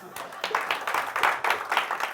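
An audience claps in a talk setting, a fairly quiet patter of hand claps swelling and fading in uneven bursts over two seconds, with some speech-like sound mixed in.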